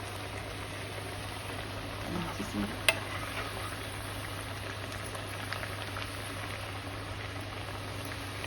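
Elephant foot yam vadiyam, sun-dried fritters, fry in hot oil with a steady, even sizzle throughout, broken only by a couple of soft clinks early on.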